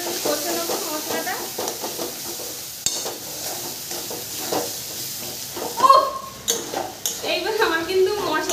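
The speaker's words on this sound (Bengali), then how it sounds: "তারপরে দিয়ে দেবো হলুদ গুঁড়ো, পরিমাণ মতো লবণ। আবারও একটু কষে নেবো মশলাটা।" A spice paste of ground cumin with turmeric and salt is stirred and fried in a pan, with a soft sizzle under scraping spoon strokes and occasional clinks of metal, a quiet voice speaking over parts of it.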